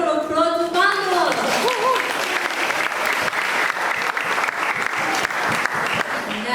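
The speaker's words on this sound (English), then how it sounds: "Please give another round of applause" Loud, sustained audience applause at a cultural stage performance, filling the whole clip after a brief moment of amplified voice at the start.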